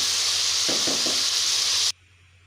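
Chicken, capsicum and onion fry in a hot pan with a loud, steady sizzle, broken by three quick stirring scrapes before the sound cuts off abruptly.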